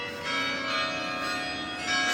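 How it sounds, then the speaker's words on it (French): An apartment doorbell rings with a sustained, bright, bell-like electronic chime, steady and fairly loud for a couple of seconds with no voices. "Ça c'est la sonnette."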